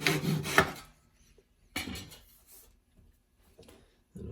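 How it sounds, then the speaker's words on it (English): Hand saw cutting a rough angle into a piece of wood in a woodworking shop, a few short rasping strokes separated by quiet pauses. "we'll start off by just getting a rough angle on this and just sawing a bit off"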